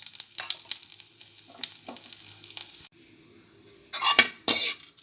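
Mustard seeds, chana dal, urad dal and dried red chilies frying in hot oil for a traditional mango kulambu, with a steady crackling sizzle, then stirring scrapes and metal clinks of a utensil against the pan, without speech.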